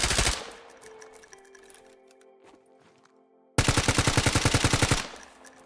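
M4 Protector and AK-74N rifles fire in the STALKER GAMMA video game: a loud opening burst fades into a quiet, ringing gap, then a second rapid full-auto burst of evenly spaced, punchy shots.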